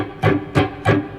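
Electric guitar picked with the strings muted and no clean separation between notes: three smeared, blurry bursts at an even pace, close and fairly loud with nothing else around.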